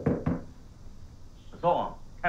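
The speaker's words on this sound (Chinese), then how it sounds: "可颂，开门啊" Two sharp knocks strike a door in quick succession at the start. Voices talk afterward.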